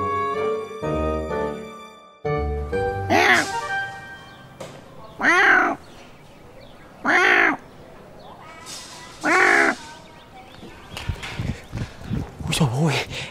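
A man imitates a cat's meow three times, loud and close, between bursts of comic talk and shuffling footsteps, with background music at the start.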